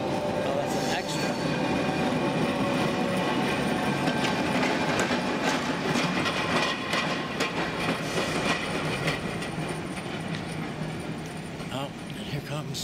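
A tram pulls into a stop by Basel's main train station, its steady rolling rumble and wheel clatter filling the scene, with someone talking over it now and then.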